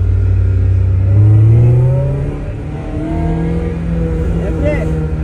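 A car engine pulls hard and accelerates, its deep drone climbing in pitch, loud and close from start to finish.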